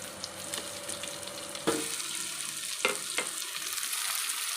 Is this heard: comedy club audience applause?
no